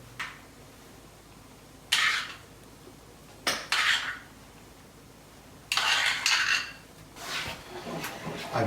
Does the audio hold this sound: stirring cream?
yes